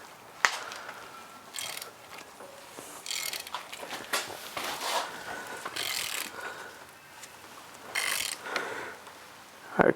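A Ford Focus 2.0 Duratec engine's crankshaft is turned by hand with the head gasket being replaced, giving faint intermittent mechanical clicks, rubbing and ratchety bursts as the camshafts move, with no voices.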